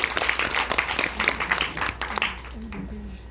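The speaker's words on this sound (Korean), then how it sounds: "박수 한번 쳐주세요." Applause from the audience at a lecture-performance combining science and rock music at a Seoul venue, a dense steady clapping that thins toward the end as a speaker's voice emerges.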